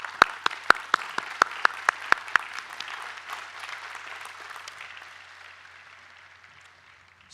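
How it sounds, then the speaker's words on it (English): A college commencement audience applauds its honorees. A few sharp, close claps stand out over a broad wash of clapping that keeps up for a few seconds, then gradually tapers off to near silence. "Please join me in a round of applause for all of our honorees."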